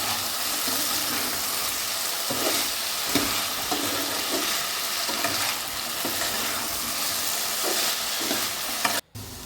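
Potatoes fry and sizzle steadily in a pan for Bengali aloo posto, with periodic stirring scrapes breaking through the crackle, close and continuous with no talk, ending in a brief clatter.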